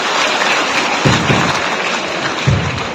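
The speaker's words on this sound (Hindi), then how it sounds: "सारे बच्चे हाथ ताली बजाएंगे" Schoolchildren at a U P Skill Quest 2023 event applauding in a hall, a dense, steady wash of many hands clapping with a few louder thumps, no clear speech.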